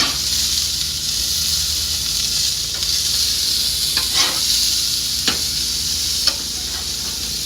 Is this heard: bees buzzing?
no